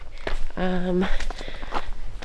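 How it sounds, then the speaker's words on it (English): Footsteps on a trail down to the water near The Storr, a quick run of close, crunchy steps under conversational talk. "are currently walking down a trail to the water."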